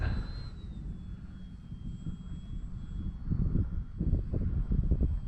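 A Dynam Skytrainer 182 RC airplane coming in to land with flaps down into the wind, its steady electric whine carried under constant wind noise and low rumble, with no talking.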